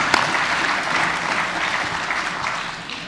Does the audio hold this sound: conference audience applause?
yes